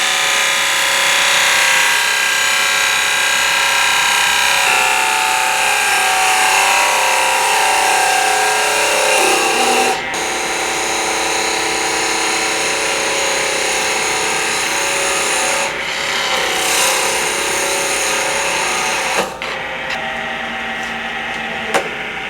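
A wood lathe spins a faceplate-mounted box blank while a spindle gouge cuts it, producing a continuous motor hum with scraping, shaving tones that shift as the tool moves and briefly break off between passes.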